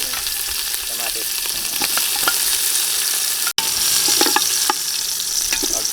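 Garlic, ginger, onion and tomato sizzle and fry steadily in a hot pan, with occasional scraping and stirring clicks from a spoon, loud and close throughout with one brief dropout, and no talking.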